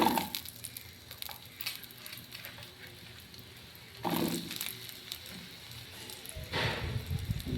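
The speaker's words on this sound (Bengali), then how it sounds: "এবার আমি পটলগুলোকে ভেজে নেব।" Pointed gourd (potol) fries in hot oil with a steady, soft sizzling hiss, broken by a few louder crackling bursts as the pieces are stirred.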